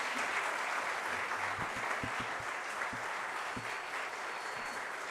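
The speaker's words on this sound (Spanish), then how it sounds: "Vamos a darle un aplauso a Eduardo." An audience applauds Eduardo Jorge Prats at a lecture on amparo and fundamental rights, steady sustained clapping filling the room, with a few low thumps under it.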